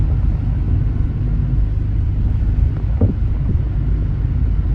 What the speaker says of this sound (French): Tirer un petit peu le deuxième rapport pour voir si l'embrayage accroche bien au passage de troisième.